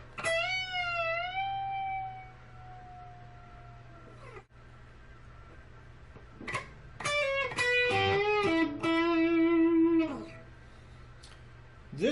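An electric guitar plays a string-bend lick: a sustained note bent up and slowly released, a pause, then quick picked notes and another bend, clean, close and alone.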